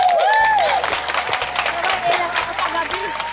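Audience applause and cheering at a community parol (Christmas lantern) contest, a dense crowd clapping steadily for about three seconds with a loud whistle near the start and voices mixed in.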